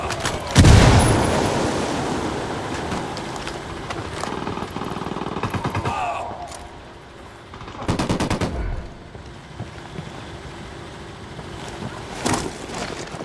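Gunfire from the video game Ghost Recon Wildlands, with a loud burst of automatic fire at the start, then more rattling volleys and single shots spread through the scene over rumbling game ambience.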